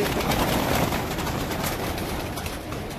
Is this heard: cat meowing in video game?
no